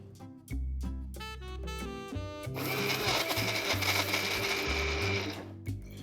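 A kitchen mixer grinder whirs loudly and steadily, grinding sesame, jaggery and cardamom finely for a til karanji filling, preceded by a few short clicks and rattles before the motor runs continuously.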